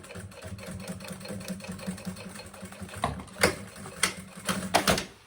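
A sewing machine runs steadily while stitching a seam on a maternity bag, its motor whirring evenly at close range. Sharper clacks and bursts of speed come in over the last couple of seconds.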